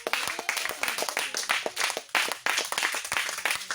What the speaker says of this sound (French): Est-ce que quelqu'un peut acclamer pour Jésus-Christ?